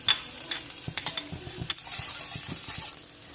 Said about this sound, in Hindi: अब सबसे पहले हमने ऑयल इसमें डाल दिया है। इसमें ये पहले मैं ये लहसुन डालूंगी